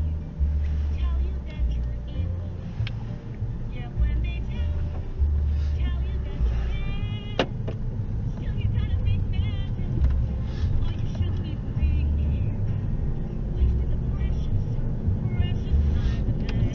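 A car drives along, recorded from inside by a budget 1080p dashcam. A low, steady road rumble runs throughout, with occasional voice and navigation speech over it.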